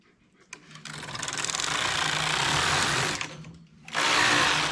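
A knitting machine makes an open-sided English rib vest as its carriage sweeps across in a long rattling pass, a brief pause, then another pass begins, close and fairly loud.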